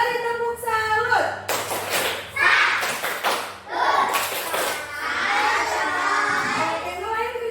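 A classroom of children performs a rhythmic salute clap, a run of sharp claps in patterned bursts mixed with children's shouts and chatter, with an adult voice talking between.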